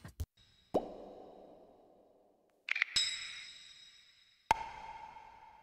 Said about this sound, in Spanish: Aquí tengo unos pods, snaps, tamborines, todo con pila de reverb